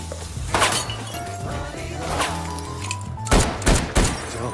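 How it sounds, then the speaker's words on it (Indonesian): A few sharp, loud bangs of gunfire crack out over a low music bed, with a tight cluster of shots near the end. "Namun tiba-tiba bunyi suara tembakan."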